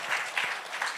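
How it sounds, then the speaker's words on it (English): Brief burst of audience applause at an awards event, a continuous hiss of many hands clapping, moderately loud with slight swells. "Give a round of applause for Guneet Monga."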